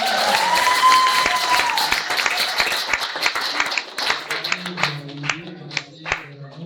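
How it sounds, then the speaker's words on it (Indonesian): An audience at a yudisium graduation ceremony at STAK Terpadu PESAT Salatiga claps together, starting as dense applause that thins into scattered individual claps while a tone and faint background sounds linger. "Mari sama-sama tepuk tangan"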